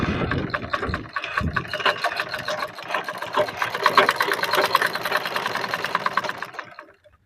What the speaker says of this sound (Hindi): देख सकते हैं हमारी मशीन एकदम सही सिलाई दे रही है